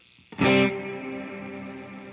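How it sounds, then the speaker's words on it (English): Electric guitar through an ambient reverb strikes a single bright chord after a soft lead-in, the attack fading into a long, smooth shimmering tail, alone and close. "Here's my original ambient reverb."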